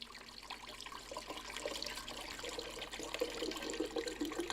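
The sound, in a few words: coconut water being poured into an Omega blender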